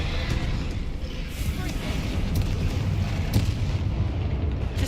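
Spell explosions from Bombarda and Confringo boom in Hogwarts Legacy amid a troll fight, a dense continuous rumble of blasts and crackling impacts with game effects layered throughout.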